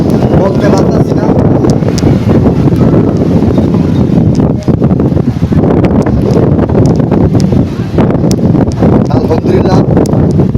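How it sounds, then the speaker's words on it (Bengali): Strong storm wind in Chandpur buffeting the microphone, a loud, constant roaring rush with gusting surges, while someone talks over it. "তো বাতাস সে তীব্রতা এত বেশি"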